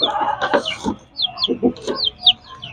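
Young Shamo chickens cluck in a short burst of soft, close calls mixed with a few higher chirps, with a faint voice underneath.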